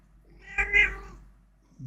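A single drawn-out cat meow, close and fairly loud, over a quiet background with no talking.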